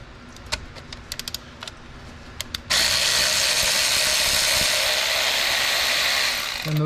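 Ratchet loosening bolts on the intake of a 2002 Chrysler Town and Country van, first as a few sharp separate clicks, then as a fast, steady ratcheting run that goes on for several seconds, heard up close.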